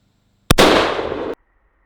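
A single sharp report from a .308 rifle striking a target, a loud close crack followed by a short decaying burst of noise, alone with no speech.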